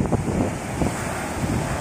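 Ocean waves roll in at Manjeshwar Beach in Kerala, a loud steady surf roar mixed with strong wind buffeting the microphone, with no voices.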